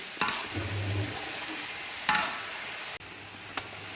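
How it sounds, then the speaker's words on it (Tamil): Potato curry puffs frying in hot oil, a steady broadband sizzle throughout with a few sharp scrapes of stirring at intervals, close and fairly loud, no voices. "இங்கே பாருங்கள், நல்லா பொரிஞ்சு வரணும்."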